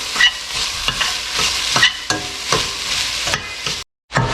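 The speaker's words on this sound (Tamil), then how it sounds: "வெங்காயம் ஓரளவு வதங்கிடுச்சு." Onions sauté with salt in a hot pan for a Tamil white vegetable kurma while a spoon stirs them, a steady close sizzle broken by regular scraping strokes, with no talking.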